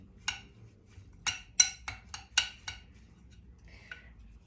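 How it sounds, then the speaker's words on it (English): A spoon scrapes and taps against a container while protein powder is mixed into overnight oats, about seven sharp, close clinks spaced irregularly, then a faint softer scrape. "So a scoop of protein, then I mix it all up"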